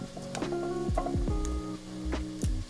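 Prosecco extra dry wine hits sautéed vegetables in a hot pan, giving a bright crackling sizzle mixed with clinks and scrapes from stirring, close and continuous.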